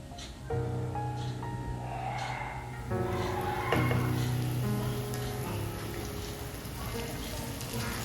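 Ginger and garlic paste frying in a hot pan, a soft steady sizzle running under clinking utensils and stirring, close and moderate in level.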